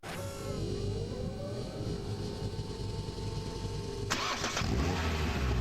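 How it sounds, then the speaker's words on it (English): A car engine cranks and catches, then settles into a steady mid-pitched running hum before a sudden shift in tone near the end, heard alone without talk. "This is the sound of a car engine."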